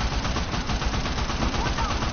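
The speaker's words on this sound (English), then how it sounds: "Damn, I shot him right in the neck." Rapid gunfire from Uncharted: The Lost Legacy on PS4, played on Hard difficulty, rattles continuously and loudly throughout, a dense barrage of overlapping shots with no clear gaps.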